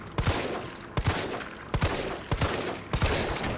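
Gunfire in the Resident Evil 3 demo, with a player shooting at an enemy's legs: five loud, booming shots come roughly every half second to second, layered over dense ongoing game noise with no speech.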